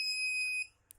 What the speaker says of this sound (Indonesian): buzzer akan berbunyi berkali-kali